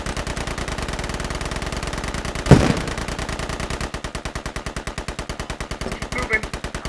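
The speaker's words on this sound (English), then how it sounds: "That sounds like enemy fire to our rear." Bursts of automatic rifle fire from enemies behind the player in the military shooter Squad rattle steadily, with one louder shot or impact partway through. The fire is mid-distance and continuous.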